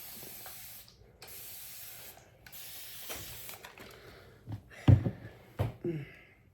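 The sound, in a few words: hairspray being sprayed on hair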